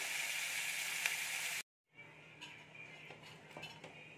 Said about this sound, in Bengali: তো আলুটা একটু ভাজা ভাজা করে নেব আগে।